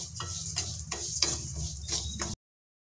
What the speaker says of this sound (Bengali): কড়াতে দিয়ে দিচ্ছি তেল, দিয়ে দিচ্ছি ডাল, নাড়াচাড়া করে ভালো করে ভেজে নেব ডালগুলো